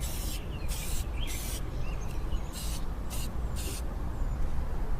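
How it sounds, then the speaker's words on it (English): Short hissing bursts of spray paint on an engine bay part such as a strut tower brace, about six separate sprays of varying length, close and fairly loud over a low background rumble. "shoot your paint and make sure there's nothing in the tip"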